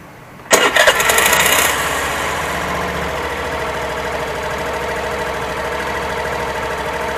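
A Suzuki Access 125 BS6 scooter with 4451 km on it starts on its noisy self-starter, giving a loud brief whirring crank that catches and settles into a steady close idle.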